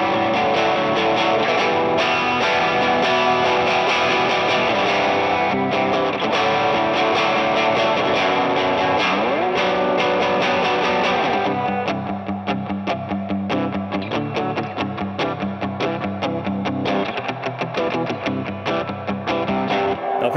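Electric guitar played through an indie rock pedalboard with a hall reverb set to a fairly long decay, ringing chords sustaining loudly before shifting to choppier palm-muted strumming, with no talking over it.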